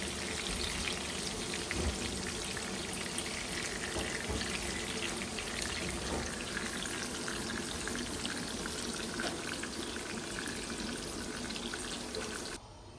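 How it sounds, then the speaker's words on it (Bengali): Eggplant (brinjal) pieces frying lightly in hot oil, giving a steady dense sizzle and crackle that stays close and even throughout before dropping off abruptly at the end. "বেগুনগুলো একটু একটু হালকা ভেজে তারপর নামিয়ে নেব।"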